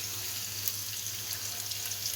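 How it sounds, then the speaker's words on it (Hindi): Onions with ginger garlic paste fry in hot oil in a pan, giving a soft, steady sizzle with faint crackles throughout, heard alone and fairly quiet. "तो अब हम डालेंगे इसमें अदरक लहसुन का पेस्ट।"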